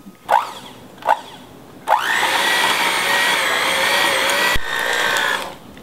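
An electric hand mixer beats small cubes of cold butter for Indonesian nastar pastry dough. It opens with three short whirring bursts, then runs as a steady, loud motor whine for about three seconds, with a brief dip before it stops.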